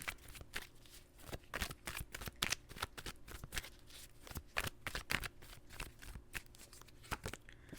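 Tarot cards being shuffled and drawn for an earth-sign reading, a quick run of crisp riffling flicks and soft card slaps that repeats steadily and sits close and clear, with no one talking.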